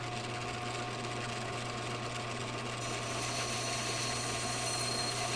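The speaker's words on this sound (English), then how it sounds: "The fun of lathe work." A metal lathe cuts aluminum with a steady, droning motor hum and a constant cutting whine, loud and close throughout.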